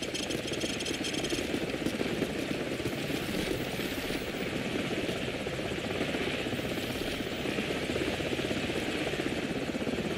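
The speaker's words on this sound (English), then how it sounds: "grab a Stinger and take out that chopper" A helicopter's rotor in Call of Duty 4 chops and whirs continuously at steady volume, with a dense mechanical roar and no voices.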